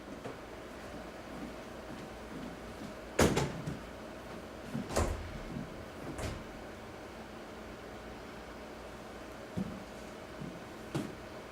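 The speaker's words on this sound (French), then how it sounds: "On frappe à la porte." Someone knocks on a door in a French drama scene: a few sharp knocks, spaced unevenly and set over a low, quiet room hum, with no voices.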